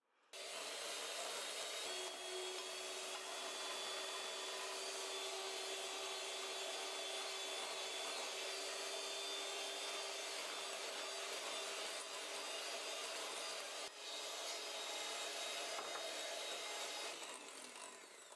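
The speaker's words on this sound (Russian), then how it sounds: "и хорошенько взобьем миксером" Electric hand mixer whipping butter with powdered sugar for a Polish cottage cheese pie batter, a steady continuous whirring drone with a faint scraping texture, loud and close, running unbroken for the whole stretch with no talking.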